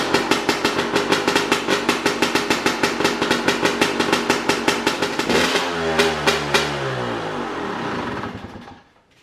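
Motorcycle fitted with a new starter motor and fresh fuel cranks in rapid, steady pulses, then catches and fires into a rising rev before settling and cutting off, close and loud.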